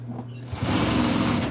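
A sewing machine top stitching a seam on a custom-fitted dog item starts after a brief quiet moment, then whirs with a fast, even stitching rhythm close by.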